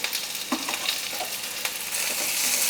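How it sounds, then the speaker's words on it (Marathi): Chopped onion and vegetables sautéing in a little oil, a continuous close frying sizzle with occasional stirring scrapes and small pops, no voices. "एक अर्धा मिनिटच आपण कांदा परतून घेऊया"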